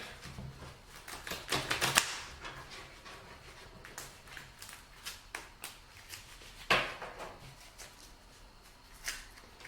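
Soft riffling and snapping of a card deck being shuffled close by, in several quick bursts with short pauses between.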